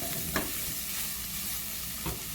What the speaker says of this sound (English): Stirring in the meantime.